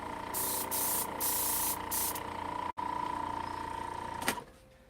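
An airbrush spraying paint gives a loud, steady airy hiss in several bursts, with a constant compressor-like hum underneath, a short dropout near the middle and a fade to quiet at the end.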